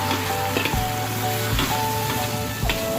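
Seafood noodles stir-fry in a hot iron wok with a loud, steady sizzle, while periodic scraping and tossing strokes about once a second ring out over the constant frying hiss.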